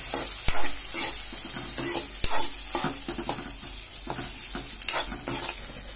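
Chana dal, urad dal, cumin, turmeric and onion frying in a pan for shavige uppittu, a steady hiss of sizzling oil broken by repeated scraping stirs of a spatula, close and clear.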